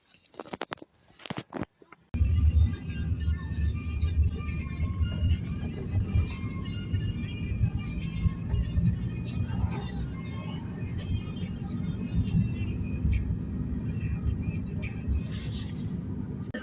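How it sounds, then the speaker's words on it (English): Riding inside a taxi through Belfast, a continuous low road rumble and engine drone with faint rattles after a few brief knocks at the start, no clear speech. "I'm in the taxi now,"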